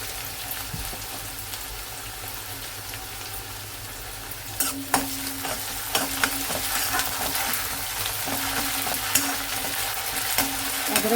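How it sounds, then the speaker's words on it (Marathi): Onion and ginger-garlic paste sauté in a pan for a Konkani egg curry, a steady frying sizzle with scattered stirring scrapes and clinks that grow busier about halfway through. "अद्रक लसणाची पेस्ट थोडी लालसर होईपर्यंत परतून घेऊया"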